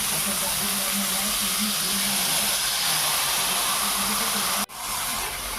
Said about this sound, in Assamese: পচলাখিনি দি পেলাই অকণমান ভাজি সেইখিনি ভাজি পেলাই